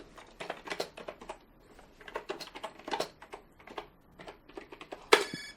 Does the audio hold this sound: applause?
no